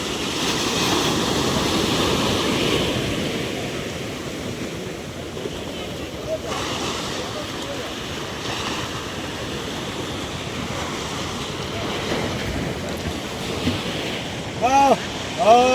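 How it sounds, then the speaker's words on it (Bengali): Sea waves break against rocks on the beach at Bakkhali in a steady roaring wash with heavy wind rumble on the microphone, which grows louder and gustier toward the end. "এই ঢেউ ভালো নেই, পাথরে ধাক্কাটা মারতে বলে মনে হচ্ছে।"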